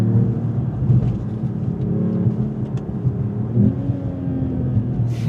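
A 2025 Mercedes-AMG E53 Edition 1 plays a synthetic engine sound as it revs, heard as a steady, loud, close low rumble with slight rises in pitch, while a voice briefly speaks near the end.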